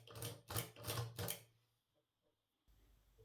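On a 1920 Typo model B typewriter, three quick, sharp mechanical clacks of the backspace key sound close by, followed by quiet and a soft background hum.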